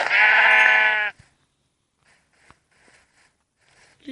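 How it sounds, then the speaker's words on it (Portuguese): A sheep in a survival video game gives one loud, clear bleat lasting about a second, followed by quiet clicks and faint small sounds. "Ovelha."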